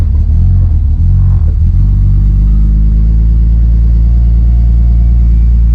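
A BMW E90 sedan with a single-turbo N54 engine and suspected water damage catches and settles into a loud, deep idle rumble, steady and close after a brief rough start, with no voices.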